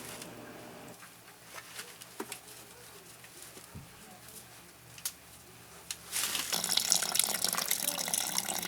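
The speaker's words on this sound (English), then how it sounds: "Don't you just love the sound of falling water?" Water draining from a water heater through a hose starts rushing and splashing loudly about six seconds in, a steady broadband gush after a quieter stretch of faint ambient sounds and a few clicks.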